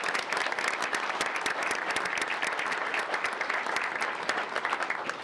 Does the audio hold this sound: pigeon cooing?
no